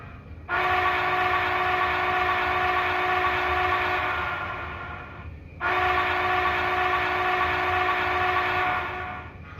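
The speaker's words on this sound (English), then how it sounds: "let's go ahead and listen to the whistle of 4013 first." Two long, steady whistle blasts from an Athearn Genesis model Big Boy 4013 steam locomotive, each lasting several seconds with a brief gap between, loud and close with no talking.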